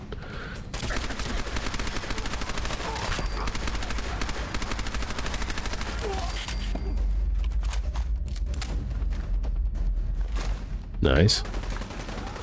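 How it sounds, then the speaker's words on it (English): A submachine gun in Fallout 4 fires long rapid bursts, loud and nearly continuous for about ten seconds, with a heavier thud near the end and a brief remark from a man between shots. "We're low on ammo. Switch to the submachine gun."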